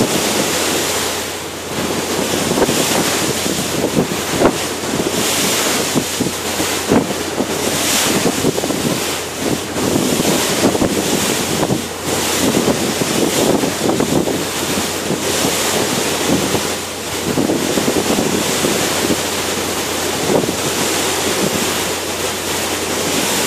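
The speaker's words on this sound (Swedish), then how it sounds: "blir det svallvågor efter en annan båt" Wake waves from another boat slap against a harbor ferry in Stockholm, a loud steady rush of water and wind buffeting close to the microphone, with no voices.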